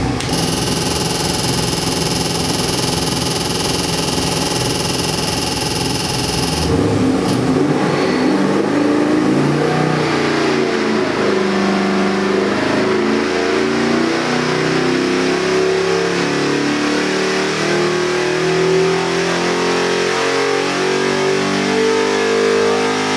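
A 1987 IROC with a swapped LS 427 crate engine revs hard in a pull, a loud, close, rising engine roar that climbs steadily after a brief steady idle-like start.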